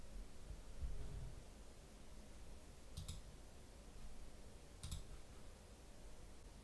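Two faint, crisp computer mouse clicks, a couple of seconds apart, over a quiet background hum.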